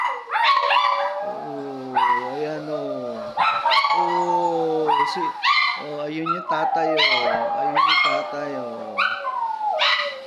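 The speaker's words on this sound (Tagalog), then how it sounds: "kumakanta yung mga aso namin" Several dogs howl together in long, wavering, sung howls mixed with yips and whimpers. They sound close and loud, and a person speaks briefly over them.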